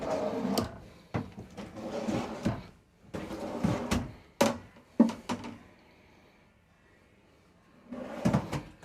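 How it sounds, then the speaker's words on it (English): Drawers on full extension glides in a 2024 Newmar Mountain Aire 3825 RV slide open and shut several times, giving close wooden thumps and sliding rumbles with quiet gaps between. "we got full extension drawer glides"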